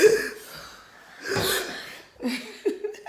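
A voice mimics labored snoring with strained breathing, giving a few rough, uneven breaths and snorts in short bursts separated by pauses.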